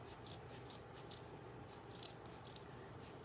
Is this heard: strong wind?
no